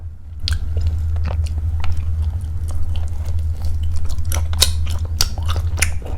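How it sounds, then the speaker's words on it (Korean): Dried herring gwamegi being chewed close up, eaten plain with nothing added, giving soft wet crunches and bites in an irregular rhythm over a steady low hum, with no talking. "이 청어 아무것도 안 바르고 먹어볼게요."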